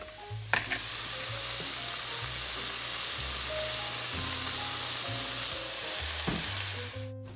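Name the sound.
chicken tenders sizzling in a pan over medium heat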